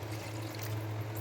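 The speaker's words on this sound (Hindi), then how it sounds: "अब इसमें हम डालेंगे, ऐड करेंगे पानी, इसमें हम पानी ऐड करेंगे।" Water poured into a pot of ready gravy for satvik lauki kofta, a steady continuous pour with a low hum underneath, close and fairly loud with no talking.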